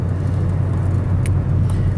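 A Ford Mustang with its check engine light on idles with a loud, steady low hum and constant rumble, nearby, broken only by a couple of faint clicks.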